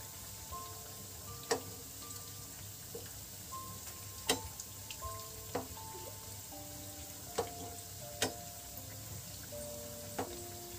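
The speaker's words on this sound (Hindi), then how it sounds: "अच्छे से फ्राई होने देंगे कलर चेंज होने तक।" Rasbhari sweets sizzle and fry in hot oil with a steady soft crackle, broken by a few sharp ticks and scrapes from turning them, close and without talk.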